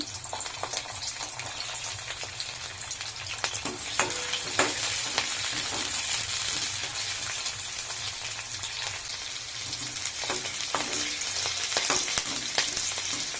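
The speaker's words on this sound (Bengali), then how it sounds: "বিনসগুলোকেও হালকা করে ভেজে নেব।" Beans frying lightly in a pan, a steady soft sizzle with occasional stirring clicks and scrapes, close and continuous with no talking.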